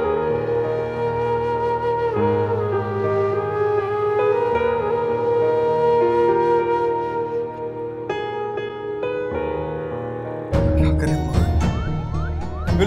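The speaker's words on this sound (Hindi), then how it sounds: "एम्बुलेंस आ गई" A wailing ambulance siren sounds continuously and loudly, its tones cycling up and down, with a harsher burst of noise near the end.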